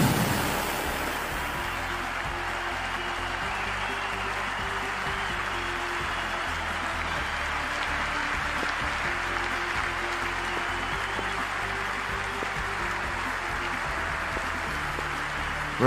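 Crowd noise at the opening game of the ICC T20 World Cup, Bangladesh versus Australia, a broad, steady roar of a large stadium audience holding constant throughout, with a brief louder burst at the start.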